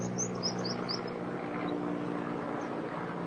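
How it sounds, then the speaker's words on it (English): A helicopter passes by outside, a steady rotor and engine drone with low harmonic hum that holds fairly constant throughout, with faint bird-like chirps high above it and no talking. "You want the chopper to pass by?"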